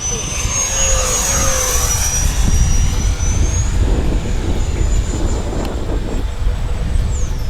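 An FMS Viper 70mm V2 RC trainer jet flying a pass, its ducted-fan whine sweeping steadily across the sky, loud and continuous with a slight pitch shift near the end over outdoor wind noise.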